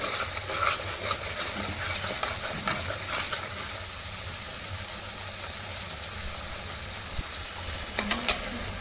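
Chickpea curry sizzles in oil in a pan while a spoon stirs it, giving a steady hiss with scraping strokes and a couple of sharper clinks near the end, close and fairly quiet.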